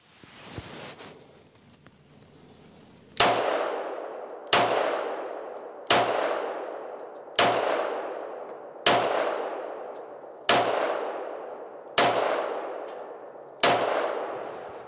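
A Para Ordnance GI Expert 1911 pistol fires a magazine outdoors: a faint rustle first, then eight sharp, loud shots at an even pace about 1.5 seconds apart, each with a short decaying echo.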